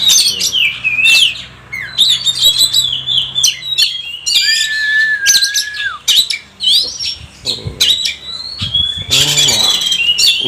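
A kacer (magpie robin) sings close by in a lively stream of varied whistles, chirps and squawks, with sharp high notes and a long sustained whistle partway through, steady throughout.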